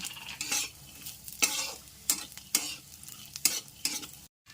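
A sweet mixture of dates and white sesame seeds is stirred in a pan, giving repeated scraping strokes with a soft sizzle between them. The sound is close and clear and stops abruptly at the end.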